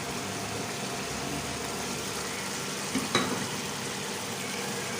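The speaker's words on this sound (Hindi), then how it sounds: "चिकन का कलर जब चेंज हो गया है और ये अच्छी तरह से भून जाए, अदरक लहसुन और ग्रीन चिलीज़" Chicken frying in a karahi with ginger, garlic and green chillies, a steady close sizzle running throughout, with a brief clink of stirring near the middle and no talking.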